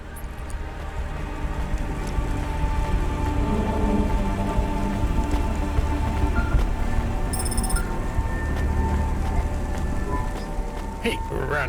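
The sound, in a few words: rain falling in the video game Cloudpunk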